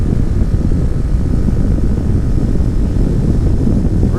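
A 2019 RPS Hawk 250 motorcycle pulls hard near 8,000 RPM, its engine a loud, steady droning roar mixed with heavy wind rush, holding constant without a break for several seconds.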